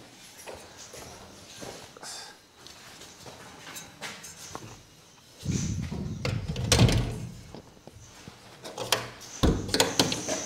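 A wooden window shutter in a house is swung open and shut, giving scattered knocks and clunks, then a louder burst of thumps and rattles partway through, with no speech.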